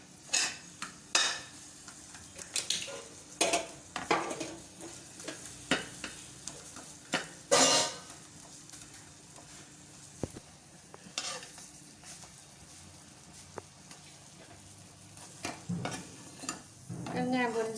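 Ingredients for curry leaf powder roast in a pan while asafoetida fries, with a string of sharp spoon scrapes and metallic clinks over a light sizzle, busy early, then quieter, then stirring again toward the end, close by.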